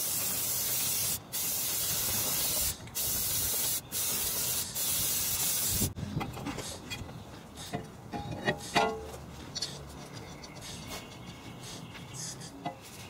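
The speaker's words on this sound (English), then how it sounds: "Clean your new disc with brake cleaner before installing it." Brake cleaner hisses in several firm bursts onto a new brake disc during a TeraFlex big brake kit install on a Jeep JK. Quieter handling and rubbing noises follow once the spraying stops.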